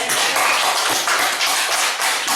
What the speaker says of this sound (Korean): 잘 될 걸 믿고 박수 쳐요.